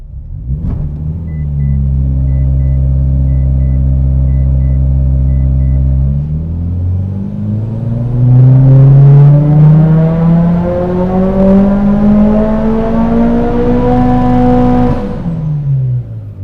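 A Mitsubishi Lancer Evolution 8 engine idles with a deep, loud rumble, then climbs in a long rising rev during a dyno pull before dropping off at the end.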